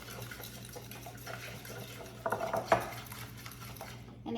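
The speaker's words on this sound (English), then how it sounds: "Whisk that egg white up with the brown sugar." Egg white being whisked with brown sugar in a bowl, a faint steady clinking of the whisk against the bowl with a few louder scraping taps partway through.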